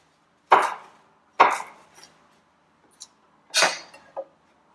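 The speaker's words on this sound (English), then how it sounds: "Just very rough chopping" Rough knife chopping of vegetables and parsley stalks on a board for homemade chicken stock: three sharp, close chops with a couple of lighter taps in between, no talk.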